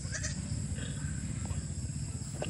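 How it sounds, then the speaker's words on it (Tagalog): Goats on a small farm where goats, chickens, turkeys and geese are raised, with a few short bleats rising over a low background rumble. "ang cute ng mga kambing na ito"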